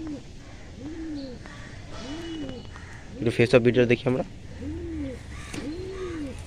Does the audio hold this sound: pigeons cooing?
yes